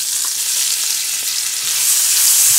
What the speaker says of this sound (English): now I'm gonna cook my onions